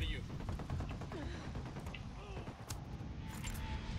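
Gunfire in the video game Ghost Recon Wildlands, a burst of rapid shots and scattered reports over busy game ambience, with a voice talking alongside.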